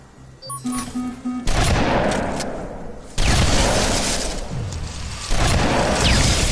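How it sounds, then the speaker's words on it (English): Repeated shotgun blasts against swarming silverfish in the shooter game Terminator: Resistance, loud and close, with each heavy boom followed by a long rumbling tail over dense game noise. "That's it, I'm breaking out the shotgun."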